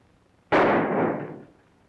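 A single gunshot in an old western film, a sharp loud crack followed by a broad rolling echo that fades over about a second, with quiet before and after.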